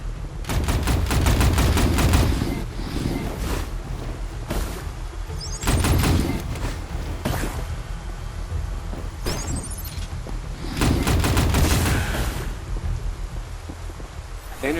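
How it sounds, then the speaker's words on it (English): Loud rattling bursts of gunfire from the alien hybrid RPG Otherskin, with several sustained volleys separated by short gaps and laid over a dense, rumbling game soundscape. "I hope my gun is effective on them."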